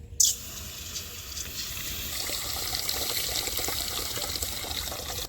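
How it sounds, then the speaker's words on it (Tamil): Water pours steadily into a pan after a brief splash at the start, a continuous close trickling rush that keeps going to the end. "இப்போ தேவையான அளவு தண்ணி சேர்த்திக்கலாம்."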